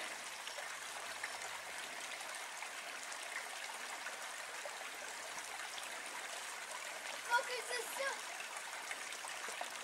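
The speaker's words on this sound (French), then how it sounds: "Elle traverse la rivière." A countryside river near Chazeau flows with a continuous soft rushing and trickling, fairly faint, with one small splash near the end.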